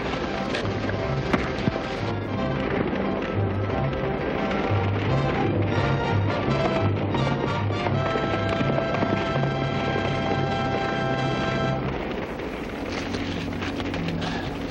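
Horse hooves pound in a rapid galloping rhythm, mixed with music and wind, steady throughout at moderate loudness.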